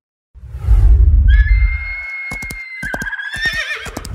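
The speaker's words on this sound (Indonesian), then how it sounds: "Ya, hewan ini adalah keledai." A donkey brays loudly and close, opening with a low rumbling bellow that turns into a series of harsh, squealing see-saw honks lasting several seconds.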